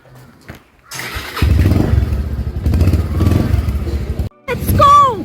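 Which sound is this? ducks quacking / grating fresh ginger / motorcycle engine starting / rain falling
motorcycle engine starting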